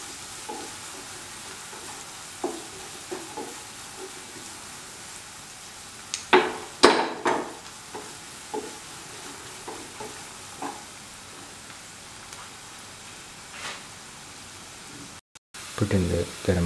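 Onions fry in the leftover oil from frying fish with a low, steady sizzle. Occasional stirring clinks and scrapes come through, louder in a brief burst near the middle.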